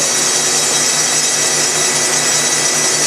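A saw, a Model 480p, cuts through stiff foam with a continuous, even, loud rushing whine that holds steady throughout without a break.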